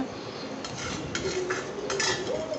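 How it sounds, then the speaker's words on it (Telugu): A utensil stirs cooked rice with other ingredients in a bowl, giving a series of light clinks and scrapes against the dish over a soft background. "అన్నీ వేసి ఇప్పుడు కలుపుకోవాలి"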